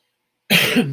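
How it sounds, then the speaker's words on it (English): After a moment of silence, a single short, close throat clearing breaks out, rough and abrupt. "Clear my throat."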